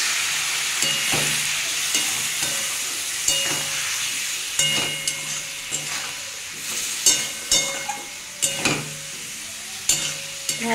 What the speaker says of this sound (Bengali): পরিমাণ মতো হলুদ, পরিমাণ মতো নুন, একটুখানি সামান্য জল দিয়ে বন্ধুরা এটা কষিয়ে নেব সব শুকনো মশলা